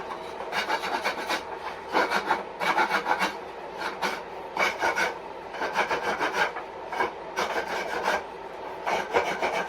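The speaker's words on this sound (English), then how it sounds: "Now we have our thicker rasp." A thick rasp files the bamboo of a jinashi nobekan flute at the node in long, rhythmic scraping strokes. The woody rasping is steady and close, with no talking.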